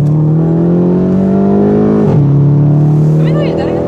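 Volkswagen Golf 7 GTI accelerating hard, a loud steady engine drone rising in pitch with a brief gearshift dip midway, heard from inside the car while people talk over it.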